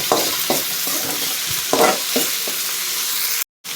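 Tomato and green chilli sizzling in a frying pan, with several sharp scrapes of a spoon stirring through at irregular intervals, close and clear, before a brief break.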